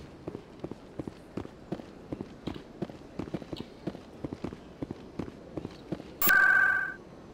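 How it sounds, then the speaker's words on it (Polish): Electronic signal beep from the video game Mass Effect, a single loud tone near the end following a steady run of rhythmic clicking steps. "Nowy sygnał. Odbiorca musi być gdzieś w prezydium."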